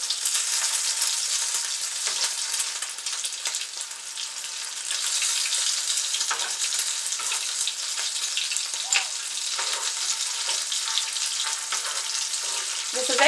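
Mashed potato balls deep frying in hot oil, a dense continuous crackling sizzle that stays loud and even throughout, with occasional faint bubbling pops.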